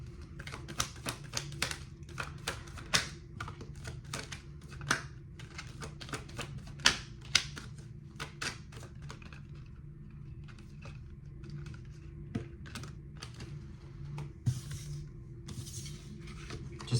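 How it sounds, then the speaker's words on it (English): Tarot cards being pulled and shuffled: a long run of quick, light, crisp clicks and flicks with uneven rhythm, close and fairly quiet, over a low steady hum. "just give me a moment here to pull some cards"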